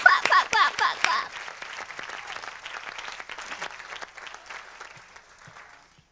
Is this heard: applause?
yes